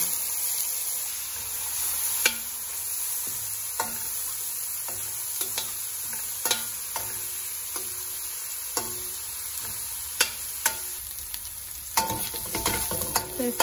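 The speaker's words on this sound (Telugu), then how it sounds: "పేస్ట్ ఫ్రై అయిపోయింది." Ginger garlic paste frying in a pan for cauliflower curry, a soft steady sizzle broken by repeated sharp scrapes and taps of a stirring spoon, busier clatter near the end.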